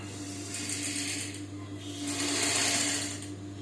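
A household tailoring sewing machine stitches a sleeve, its needle mechanism whirring in a steady rapid rattle that slows briefly mid-run and then picks up again, loud and close with no talking.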